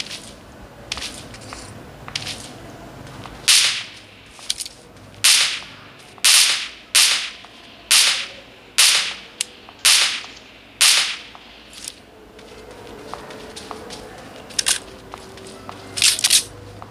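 Jumping footsteps from a character in the mobile shooter BGMI, heard over wireless gaming earbuds as a steady series of about a dozen sharp, crisp thuds spaced roughly a second apart over a quiet game background.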